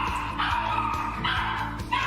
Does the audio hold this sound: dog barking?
yes